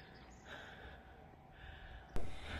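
A person climbs many stairs to an outdoor amphitheater at about 2000 m altitude in Colorado Springs and breathes heavily nearby. Labored breaths and gasps rise and fall, then one sharp, louder snort-like exhale comes near the end.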